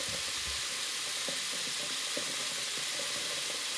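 Raw peanuts being rinsed under running water, a steady broad hiss of flowing water with faint knocks and shuffles of the nuts underneath, close and constant with no talk.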